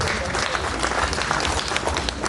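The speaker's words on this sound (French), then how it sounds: "Je demande que vous applaudissiez pour vous-même parce que ce ressort c'est vous." A gala fundraising crowd applauds itself, dense steady clapping filling the room at a constant loud level throughout, with a faint hint of voices mixed into the ovation.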